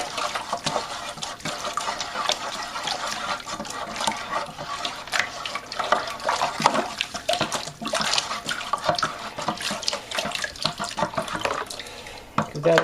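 Liquid sloshes and swirls continuously as wine kit must is stirred in a fermenter, with a dense, close watery churning throughout.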